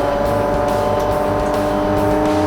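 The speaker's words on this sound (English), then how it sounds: "The engine sounds pretty decent as well" A race car engine in Forza Motorsport on the original Xbox drones loud and steady with a high tonal whine, tire squeal and skidding layered throughout, with no voices.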